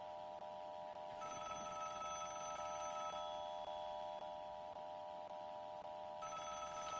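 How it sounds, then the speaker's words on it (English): A telephone rings in the video game Vigor, a steady repeating electronic bell trill that carries on through the whole stretch at even loudness over a constant background hum, with no talking. "Someone's ringing the phone."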